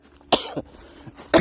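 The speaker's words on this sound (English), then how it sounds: "ugly cough." A person coughs in three harsh bursts, two close together and a louder one after a pause, close up with faint background hum.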